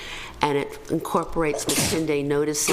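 A single sneeze rings out in a city council chamber during a public meeting, brief and close, partly overlapping someone speaking steadily into a microphone.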